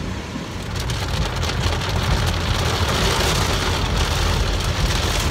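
Heavy pouring rain outdoors, a loud, dense, continuous roar of drops hitting surfaces close by, steady throughout with no voices.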